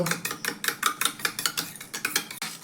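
Eggs with salt and ground pepper being whisked by hand in a bowl, a steady run of rapid clinking taps against the bowl's side, close and fairly loud, with no talking.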